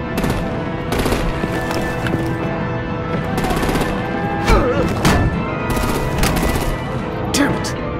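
Loud, sustained automatic gunfire and artillery hammer away in a Batman Telltale video game battle, with sharp bursts and thuds over a dense droning backdrop.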